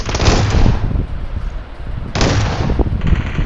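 Shotgun gunfire in the battle royale game PUBG Mobile comes as a couple of loud, close blasts with rattling echoes, separated by a short lull.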